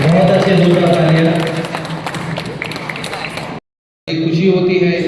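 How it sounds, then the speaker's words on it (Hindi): A large audience at a naturopathy event gives loud, sustained clapping over a speaker's voice, then a brief dropout and the voice resumes. "बहुत अच्छे जोरदार तालियां।"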